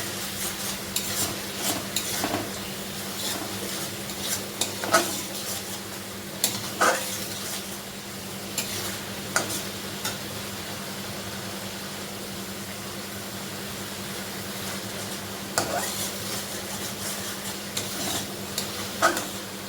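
Masala for a soybean curry stir-fried in a pan: a steady background sizzle with a low electrical hum, broken by sharp scraping clinks of a spatula against the pan at irregular intervals, with no voices.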